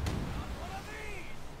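A heavy cannon boom opens the passage in the naval video game Blackwake, fired from ship guns at a galleon, then fades under someone talking.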